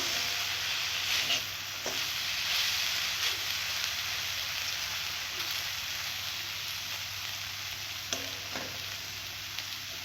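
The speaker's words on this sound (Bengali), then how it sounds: "তার জন্য আমি কাজু আর কিশমিশ দিয়ে আমি কিছুক্ষণের জন্য করে ভেজে নেব" Cashews and raisins frying in a pan, a steady even hiss and sizzle throughout with a few faint stirring clicks.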